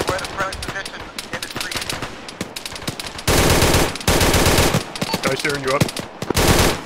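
ArmA 3 game gunfire: near and loud machine-gun bursts and rapid single shots, with two long sustained automatic strings, plus radio-style voices talking between and over the firing.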